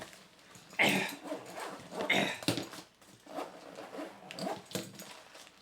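Zipper on a small pouch of a backcountry first aid kit being pulled open, close rasping bursts in several short strokes with fumbling handling noise between them, no talk.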